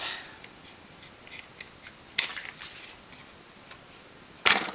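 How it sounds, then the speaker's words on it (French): Scissors cut rounded corners into cardboard for a small box, with light rustling and handling clicks between two sharp, crisp snips that stand out clearly in an otherwise quiet room. "Les arrondis, on peut les faire au ciseau."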